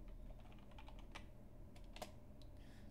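Typing on a computer keyboard, a quick run of light key clicks at an uneven pace over a low steady hum, close and fairly faint.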